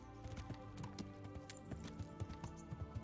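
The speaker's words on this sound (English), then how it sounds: "Bro, you don't know how to drive a horse." Horse hooves clopping in a steady, uneven gallop while riding in the Kingdom Come: Deliverance video game, a series of quiet, close thuds over a faint background.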